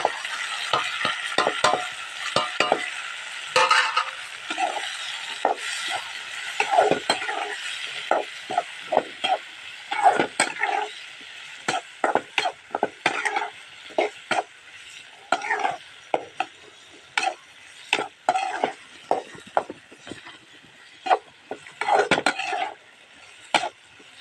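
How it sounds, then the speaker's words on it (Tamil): Tomato and potato being mashed in a masala-coated pan over the stove: a busy run of scraping, tapping utensil strikes against the metal pan, steady and close, with no talking. "இனி தக்காளியும் உருளைக்கிழங்கையும் அப்படியே தட்டிடுறோம்."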